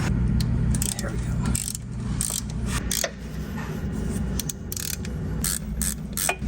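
Ratchet wrench undoing wheel bolts on a Porsche Boxster 986 during a clutch job, repeated bursts of rapid clicking over a low engine-like hum, close and fairly loud, with light clanks between strokes.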